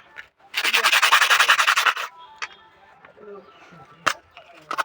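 A metal nut from an electric water heater is scrubbed clean by hand: one loud, fast rasping burst of rhythmic rubbing strokes, followed by quieter scraping, clinks and small handling noises close by.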